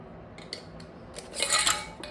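A glass canning jar fitted with a ring is set down into a canner, giving a few light clinks followed by a louder rattling clatter of glass and metal at close range.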